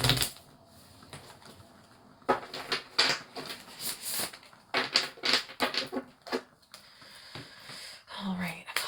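A tarot deck being shuffled by hand close up, giving a run of quick papery riffles and soft slaps that come in uneven bursts with brief pauses between them.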